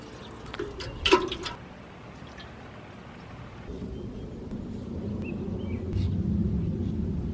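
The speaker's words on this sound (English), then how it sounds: "now I'm gonna give it a nice little water" Water is poured over compost and soil in a garden bed. A soft splash comes first, then a steady, low rushing of water soaking into the soil builds and continues to the end. No one speaks.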